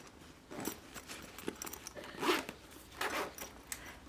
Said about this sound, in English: Open up your zipper